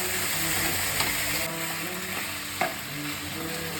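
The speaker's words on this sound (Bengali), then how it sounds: "চালটা একটু ভালো করে ভেজে নিতে হবে" Soaked rice frying in oil for pulao, sizzling steadily while a spatula scrapes and stirs it around the pan, with a couple of sharper scrapes against the metal.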